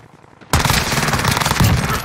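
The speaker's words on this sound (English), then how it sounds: "I'm taking fire!" Call of Duty Warzone gunfight, where a quiet stretch breaks into a sudden, sustained burst of loud automatic gunfire that fills the rest of the moment, dense and close with overlapping shots.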